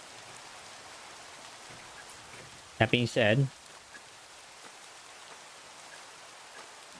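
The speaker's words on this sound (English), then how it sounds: "it is very peaceful listening to the rain" Steady video-game rain hisses evenly throughout at moderate level, with a brief spoken phrase over it partway through.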